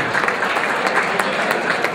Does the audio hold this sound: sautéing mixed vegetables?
no